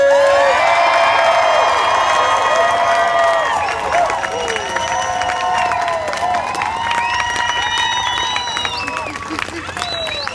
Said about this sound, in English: What I'm looking for is called organized confusion. Clapping, screaming.